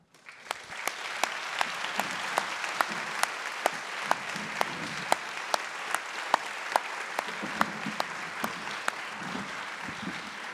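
An audience applauds a professor being introduced at a lecture event, sustained, even clapping from a crowd with sharp individual claps standing out throughout.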